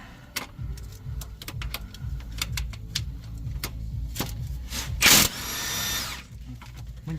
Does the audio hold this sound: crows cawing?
no